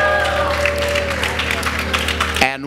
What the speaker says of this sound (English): And while you're applauding